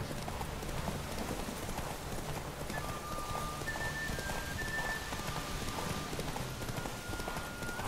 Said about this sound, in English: the horse just keeps going the way he's going without listening to me